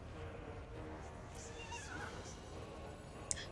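Horse whinnying in Total War: Warhammer 3 over a low battlefield rumble, the neigh rising and falling mid-distance, with a few faint hoofbeats and a brief sharp click near the end.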